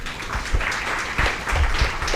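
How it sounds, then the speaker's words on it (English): An audience at a technology conference's opening applauds guests as they arrive, with a dense run of clapping and a few sharper claps standing out. "Please join us in welcoming them with a huge round of applause as they enter."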